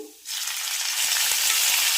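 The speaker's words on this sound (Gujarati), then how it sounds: "એટલે કે સરસ ગોલ્ડન બ્રાઉન કલરની ન થાય ત્યાં સુધી સાંતળી લઈએ" Chopped green onion suddenly hits hot oil with ginger-chili paste and sizzles loudly and steadily, with soft stirring clicks underneath.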